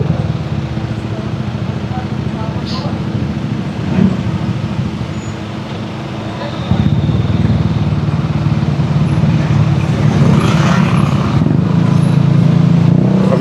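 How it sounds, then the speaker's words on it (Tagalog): Cars and motorcycles pass on a busy road in a continuous traffic rumble, which grows louder and heavier about halfway through as nearer vehicles go by. "Dito ang traffic sa amin."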